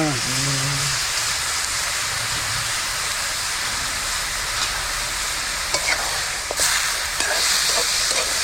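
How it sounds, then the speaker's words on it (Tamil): Chicken stirred in a pot outdoors, steady sizzling and scraping hiss throughout with a short burst of voice at the start and a few sharper clatters near the end. "கிண்டிக்கிட்டே இரு"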